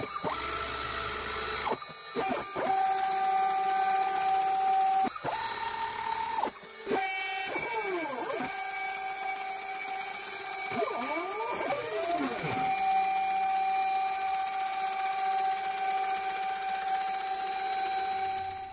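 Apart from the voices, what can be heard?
CNC machine cutting aluminium sheet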